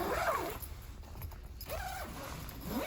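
Zippers on an iKamper SkyCamp 2.0 hard-shell rooftop tent being pulled along the canopy, giving two sweeping rasps with a quieter stretch between them, close and moderately loud, with no talking.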